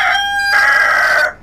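A rooster crows once, loud and close, a single drawn-out call on a small backyard flock of desi and kroiler chickens, ending abruptly with no talk over it.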